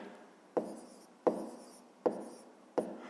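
Four pen strokes scratch across paper at a steady pace, each one starting sharply and then rasping off, while someone works through a fifth-grade subtraction of decimal numbers by hand. No voices are present.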